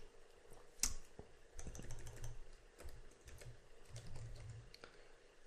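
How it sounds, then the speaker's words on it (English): Fingers type on a computer keyboard in quick, uneven bursts of close, crisp key clicks, with a louder tap near the start and short pauses between runs. "Click on this and type in"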